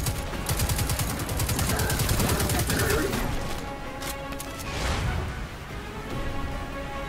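Rapid automatic gunfire rattles in dense bursts while enemies are shot in Destiny 2, loud and close, with brief pauses and a whooshing effect midway, a voice talking over parts of it.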